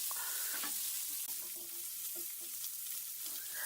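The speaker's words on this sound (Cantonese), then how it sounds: "咁就煎到兩邊都金黃啦" Quiet, steady sizzling of meat frying in a pan, with faint crackles and a few soft clinks over a low background hum.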